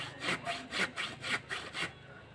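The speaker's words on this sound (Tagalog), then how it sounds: "Tapos na nalagari dito." An old hand saw cuts through wood while someone builds a squid trap. It makes about seven rhythmic rasping back-and-forth strokes, close and even-paced, before it stops.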